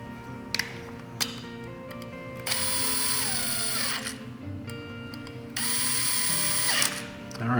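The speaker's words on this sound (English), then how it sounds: "We're just going to put a couple screws back in just to hold it together." Screws are driven into a Vespa large-frame clutch support plate with a ratcheting tool, giving two sustained buzzing bursts of rapid clicks. The bursts are separated by quieter handling clicks and taps, close and fairly loud, with no speech.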